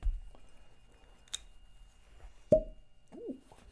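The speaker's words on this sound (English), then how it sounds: "Nice cork pop on that." A cork pulled from a Heaven Hill wheated bourbon bottle gives one sharp, close pop, followed by brief faint rustling and a small squeaky sound.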